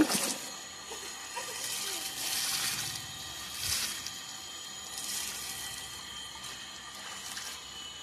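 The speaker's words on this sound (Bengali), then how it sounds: "জামা কাপড়গুলো ভালো করে ধুয়ে নেওয়া হচ্ছে" Clothes being washed by hand in water, with broad splashing and sloshing surges recurring every second or two over steady background noise, moderately close.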